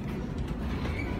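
An airport subway train carries riders between terminals, its steady low rumble and rail noise continuous and close, heard from inside the car with no talking.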